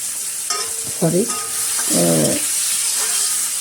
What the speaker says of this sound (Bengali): দিয়ে দিচ্ছি আমি পেঁয়াজ কুচানো, এটাকে আমি ভেজে নেব